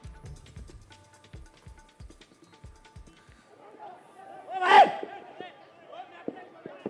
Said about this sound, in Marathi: महाराष्ट्र केसरी स्पर्धेत जोरदार राडा झाल्याचं देखील आपल्याला पाहायला मिळतंय